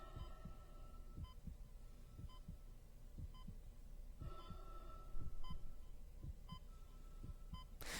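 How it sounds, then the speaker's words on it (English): Isaac Clarke's heartbeat and breathing in the video game Dead Space: a slow, steady, faint low thump repeating about twice a second over a quiet hum and breath, with soft periodic beeps from a suit timer. "all you can hear is Isaac's breathing, his heartbeat"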